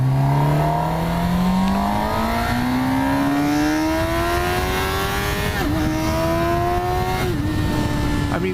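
A 2006 Honda CBR600RR sport bike accelerates hard, its engine note climbing steadily with brief dips at two gear shifts, loud and close throughout with no talk.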